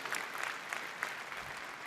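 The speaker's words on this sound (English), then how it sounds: "Big applause and thanks a lot to all of you." Faint, distant audience applause at a Cisco Live keynote in Amsterdam, a large crowd clapping steadily with a soft, diffuse wash of sound.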